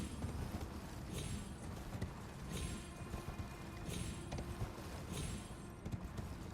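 Spectral horse Torrent galloping in the video game Elden Ring, faint rhythmic clip-clop hoofbeats repeating about once a second over a muffled noisy background.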